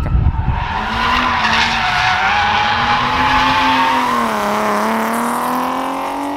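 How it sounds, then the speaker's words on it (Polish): A BMW race car on the Modlin circuit sweeps past loudly and close, its engine note rising then gradually falling away, with a tire squeal at the start. "Gdzieś tam w tle przejeżdżają V8. Jedzie to BMW."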